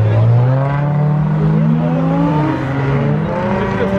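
A McLaren Senna accelerates away from Cars and Coffee in Houston, its engine note rising in pitch with turbo whine over a continuous loud roar.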